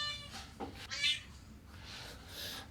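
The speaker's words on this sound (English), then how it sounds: "here's the cat" A house cat meows several times in a row, short mewing calls at moderate volume with quiet gaps between them.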